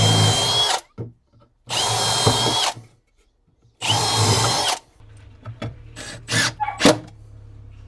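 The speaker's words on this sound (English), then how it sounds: "Metal drill bit." A power drill with a metal bit bores into the oak wood of a whisky barrel in three loud, sustained whining bursts of about a second each, separated by pauses, followed by shorter clicks and blips of the trigger.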